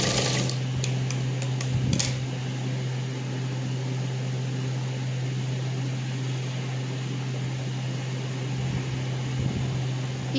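Sewing machine stitching a short frock, a continuous close mechanical whir with a steady low hum, preceded by a few quick ticks at the start, running evenly with no talking.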